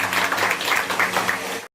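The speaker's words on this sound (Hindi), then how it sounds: "हम सब की श्रद्धा भरी तालियां से भगवान जी सैनी के चरणों तक पहुंचे।" Mourners at a memorial tribute meeting applaud together in a short, fairly loud burst of clapping that stops abruptly after under two seconds.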